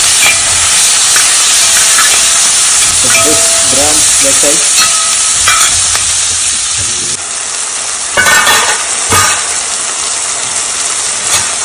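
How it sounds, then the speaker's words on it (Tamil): Onions and tomato sauté in a bronze uruli pan, a loud, close, continuous sizzle and hiss with occasional stirring scrapes and clinks of a utensil against the metal. "லஞ்சில் வெங்காயம்லாம் போட்டு வதக்கிட்டு சூப்பராக வந்திருக்கு"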